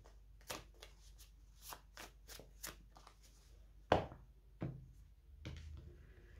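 A deck of tarot cards being shuffled by hand, a run of soft riffling bursts followed by a few sharper snaps and taps as the deck is cut, close and fairly quiet.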